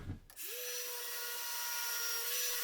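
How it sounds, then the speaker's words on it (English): A random orbital sander fitted with coarse P80 abrasive starts up after a brief pause and runs with a steady, loud, high whine and hiss while cleaning the face of a metal filler knife. "use a random orbital sander with a fairly coarse grit abrasive"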